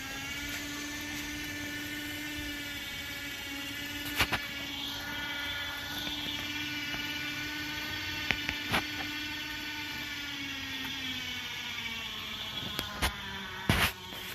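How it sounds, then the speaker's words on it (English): A winch on a John Deere 316 strains steadily as it drags an Arctic Cat ATV out of a mud pit, its whining motor droning throughout with a few sharp clicks and knocks. "Oh, the winch doesn't like it."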